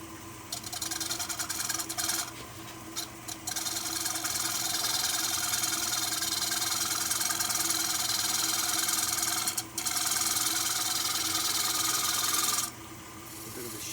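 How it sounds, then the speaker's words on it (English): A hand scraper shear-scrapes a turned camphor wood bowl, giving a steady, continuous raspy scraping close up, with a few brief pauses near the start and end. "A bit of a shear scrape, just very controlled."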